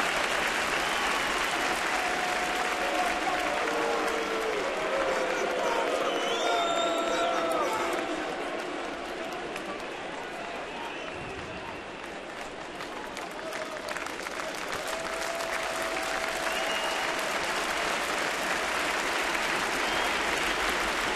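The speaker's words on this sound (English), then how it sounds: "Crowd getting behind Josh Johnson." A baseball stadium crowd at a Detroit at Toronto game cheers and applauds steadily, loud and sustained throughout, easing a little midway before swelling again, with whoops rising above the roar.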